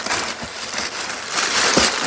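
Packing paper crinkles and crumples close by as it is stuffed around a pair of oiled leather shoes being wrapped for shipment. Soft irregular rustling swells into louder crackling bursts near the end.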